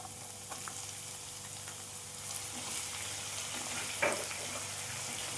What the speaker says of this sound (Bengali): আবারও আমি তেলের সঙ্গে ভালো করে ভেজে নেব